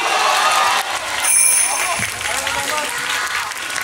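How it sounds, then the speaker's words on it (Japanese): Audience applause and cheering fill a beatbox battle event hall right after a match result, loud, dense and sustained throughout with a brief swell of crowd noise. "アキッチにも大きな拍手をします。"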